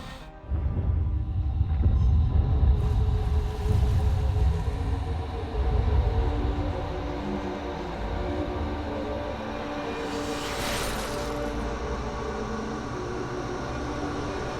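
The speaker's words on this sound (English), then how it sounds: "I must stop this infernal train and the evil force that drives it" An infernal train from the video game Alice Madness Returns rumbles with a heavy, noisy roar that swells early, then settles into a steady mechanical drone with a brief hiss burst partway through, no voices.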